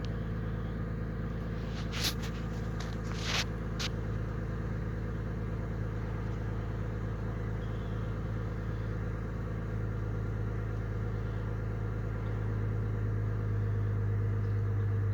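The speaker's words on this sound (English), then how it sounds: "it does hesitate. It does have a little skip to it." A 2004 Chevrolet Trailblazer LS engine idles with a steady low rumble, running a little unevenly with slight hesitations and skips; a few brief clicks come early on.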